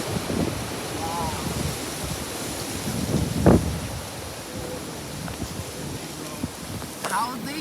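Strong wind roars in continuous gusts during a high wind warning, buffeting the microphone with rumbling noise and rushing through trees, and a person's voice is briefly heard under the gusts.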